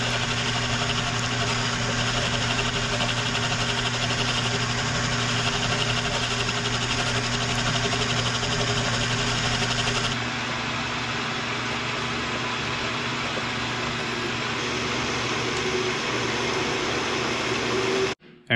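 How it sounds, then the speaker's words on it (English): A metal lathe turns a transfer case output shaft for an NP208 slip yoke eliminator build, giving a steady loud machine hum and whine that drops a little in level partway through before cutting off at the end. "This output shaft is dialed in the lathe."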